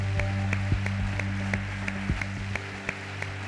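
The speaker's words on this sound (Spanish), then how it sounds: "Recibamos con un fuerte aplauso a Tony Nadal." An audience at a motivational talk event in Madrid claps to welcome a speaker, heard as light, scattered claps over a steady hall hum.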